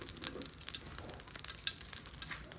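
Fish frying in hot oil in a pan, a quiet steady crackling sizzle with small pops and stirring noises, no voices.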